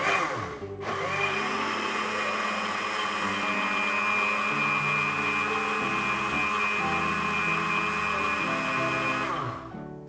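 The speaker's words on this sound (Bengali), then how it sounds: "এখন এটাকে আমরা একটু ব্লেন্ড করতে চাই" A blender runs continuously on mango lassi made with milk and sugar, a loud steady whirring hum starting abruptly and holding for nearly ten seconds before stopping, with no talking.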